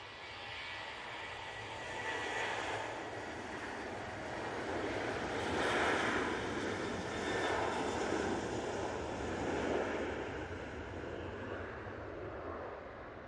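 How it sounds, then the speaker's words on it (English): A TUI airliner bound for Zakynthos on its takeoff roll at Manchester Airport gives a steady, fairly distant jet roar that swells and ebbs slightly, mixed with wind noise on the microphone. "Tui now on the roll. Off to Zakynthos."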